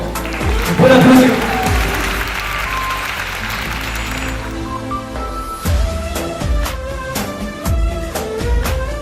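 Guests at a charity gala dinner break into applause for a few seconds, then rhythmic music with a strong beat comes up and carries on loudly.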